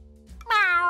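Gary the snail from the SpongeBob Battle for Bikini Bottom video game gives a single short, clear meow, loud and alone after a quiet moment.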